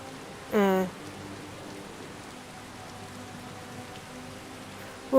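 Rainstorm in Skyrim VR, heard as an even, continuous wash of rain noise, with a short vocal sound near the start.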